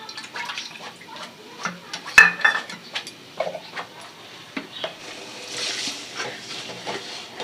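Water poured into thick fish rezala gravy in a pan on the stove, a soft splashing pour with light clinks, close and moderate over a quiet kitchen background.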